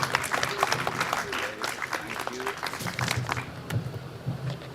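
Audience applause at a Republic Day celebration right after a song performance, a moderate, fairly thin patter of claps heard at a distance and fading toward the end.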